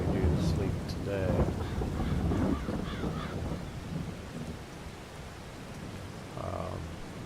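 Rain and rumbling thunder in the farming video game Farming Simulator 22, a steady wash of rainfall with low rolls underneath and a faint voice talking over it.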